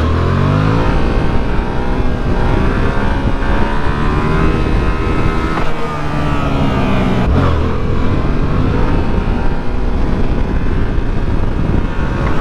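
An MT07 motorcycle ridden up into a wheelie roars loud and close, its engine revving hard and holding high without a break.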